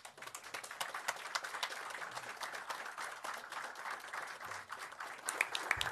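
An audience at a Brazilian government Covid-19 vaccine contract signing gives steady applause, heard faint and distant throughout.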